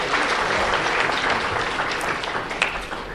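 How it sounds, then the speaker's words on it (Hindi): Loud, dense applause fills the hall at an All India educational conference in Aurangabad as teachers are honoured, a steady wash of many hands clapping close by with no voices over it. "इनके लिए भी जोरदार तालियां"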